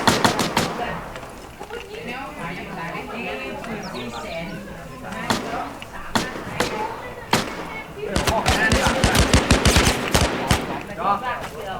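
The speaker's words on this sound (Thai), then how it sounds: "บนเขายิงผมมาพี่" Gunfire in the game Last Man Standing crackles in rapid bursts and single shots, loud and near, with a dense volley toward the end while players talk excitedly over it.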